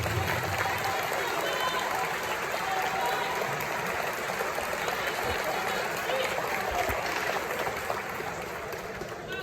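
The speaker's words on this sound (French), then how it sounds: "Applaudissez-vous encore une fois, s'il vous plaît." An audience at a political speech claps in a sustained, dense patter, with a murmur and voices mixed underneath, holding fairly even and easing off slightly toward the end.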